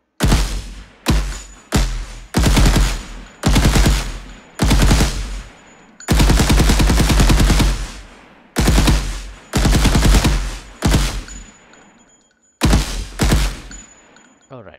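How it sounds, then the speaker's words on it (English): Automatic gunfire in an Unreal third-person shooter, bursts repeated roughly a dozen times with brief gaps, along with the faint clink of ejected bullet shells hitting the ground, loud and close with no talk. "you can hear the bullet shells hitting the ground sound as well"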